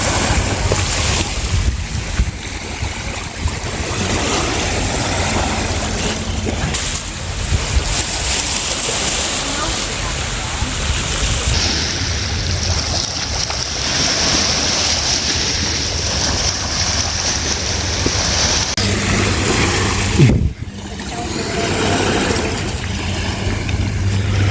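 Ocean waves washing onto a beach beside a temperate rainforest, under steady gusting wind buffeting the microphone, with a brief louder gust near the end.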